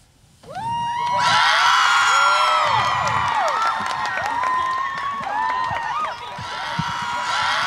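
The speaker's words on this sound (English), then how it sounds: "Got any more applause left?" A live bar-room crowd at a small club gig cheers, whoops and claps loudly for a band, with bright shouted whistles and voices rising and falling continuously throughout.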